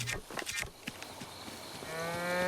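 Livestock calls on a farm in a video game, a couple of low bleating, mooing-like cries among soft thumps, then a sustained tonal drone rising at the end, fairly faint.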